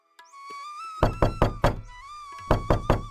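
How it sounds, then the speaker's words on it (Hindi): Knocking on a door from outside, two quick bursts of four sharp raps each, loud and close, separated by a short pause, with a soft tonal background sound running underneath. "इतने में बाहर दरवाजा खटखटाने की आवाज आई।"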